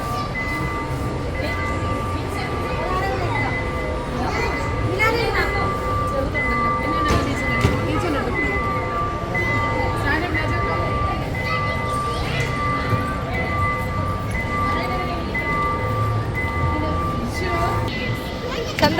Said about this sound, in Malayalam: അവിടെ ഒരു ടോയ് ട്രെയിൻ ഉണ്ട്